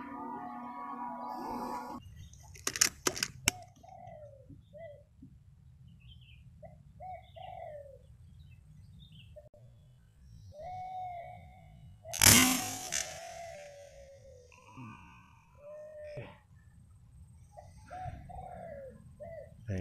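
A spotted dove coos in short soft phrases outdoors during a squirrel and dove hunt, faint and somewhat distant, with other bird chirps and a few sharp cracks and one loud bang partway through.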